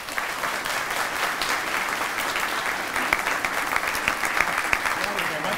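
Dense, sustained applause fills a hall as an audience welcomes Chairman Lamar Smith to the stage at a space exploration event, loud and continuous with a few louder claps near the end.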